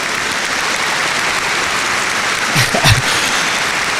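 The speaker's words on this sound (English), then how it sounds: "let's tell the audience another little round of applause for Coach Nick" A studio audience on a business podcast gives a little round of applause for the guest coach, a soft continuous patter of clapping with a brief low thump and rustle near the end.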